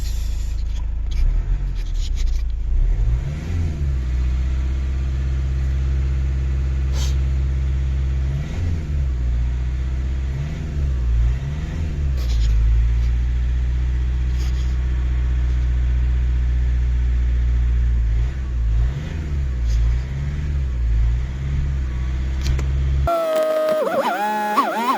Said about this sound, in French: On fait ça pour faire chauffer plus vite le moteur.